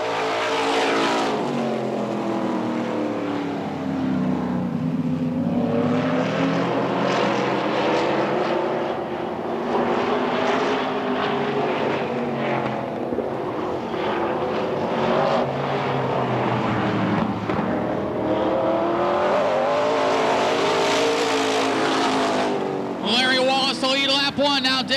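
Modified race cars roar around the Tri City Motor Speedway oval, loud engines rising and falling as they pass close and fade, with an announcer talking over the racing noise throughout.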